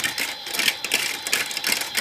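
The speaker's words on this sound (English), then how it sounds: "That's the dryer." Toy dryer machine running up close, a fast buzzing rattle with a steady whirring motor, fairly loud and uninterrupted, with no talking.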